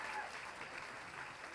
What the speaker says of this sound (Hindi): एक बार आप जोरदार उसके लिए तालियां बजा दें बालक के लिए।